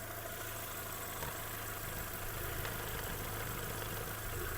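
A 2010 Volkswagen Golf 6 with a 1.6 MPI petrol engine converted to run on gas idles in a steady, faint, low hum that stays even throughout, with no voices.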